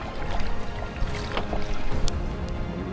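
A canoe being paddled near a beach off Moorea, with water sloshing and dripping around the hull and a few light paddle splashes, close by over a steady rush of wind and water.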